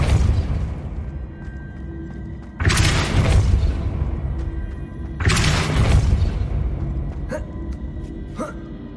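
Two heavy Depulso spell blasts from the Hogwarts Legacy video game, each a loud booming burst with a rumbling tail, separated by a few seconds of low ambience, then lighter clicking effects.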